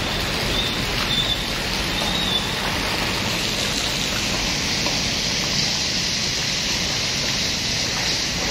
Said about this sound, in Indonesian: di mana saat ini lagi hujan deras